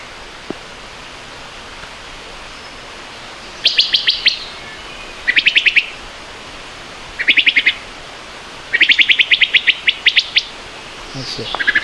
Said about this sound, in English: That's a wood thrush singing right now.